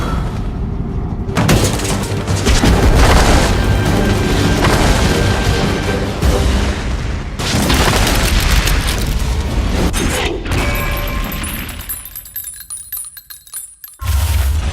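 Frag grenade blasts in Army of Two: The Devil's Cartel land as heavy, loud booms in a dense stretch of combat noise, with a few metallic ringing tones near the end before a brief drop and a final burst.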